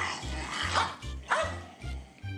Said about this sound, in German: Das war ein Hund